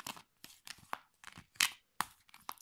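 Playing cards are shuffled close up in a quiet ASMR setting, a series of crisp riffling and snapping bursts in an irregular rhythm with brief pauses between.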